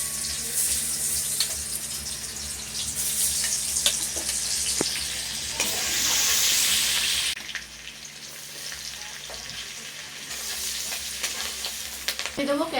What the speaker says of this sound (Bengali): প্রথমেই দিয়ে দেব রসুন কুচি